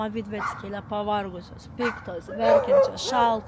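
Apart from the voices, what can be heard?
dog barking at a cat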